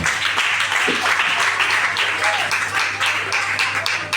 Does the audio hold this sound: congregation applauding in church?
yes